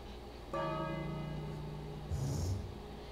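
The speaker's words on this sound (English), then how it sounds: "Time to ring the bell." A single bell strikes in the King's Quest video game, ringing out with a loud, clear onset and a long sustained harmonic tone, followed by a brief higher shimmer near the end.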